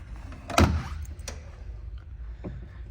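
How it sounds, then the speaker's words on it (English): Trunk of a 1979 Pontiac Formula Firebird popping open, a single sharp latch clunk followed by faint creaks and a soft later tap, nearby and alone. "I'm going to go ahead and pop that trunk for you"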